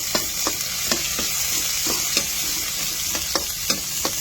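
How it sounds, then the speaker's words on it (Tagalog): Garlic and onion sautéing in a pan, a steady background sizzle punctuated by regular clicks and scrapes of a spatula stirring, close up and moderately loud, without talk. "Nagigisa na tayo ng bawang."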